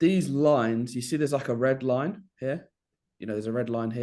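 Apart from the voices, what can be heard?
No everyday noises stand out.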